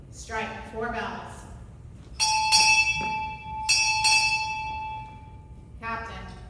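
A ship's bell is struck during a naval change of command ceremony, rung in two pairs of loud, ringing strikes that hang and decay, with an announcer's voice before and a further strike starting at the end.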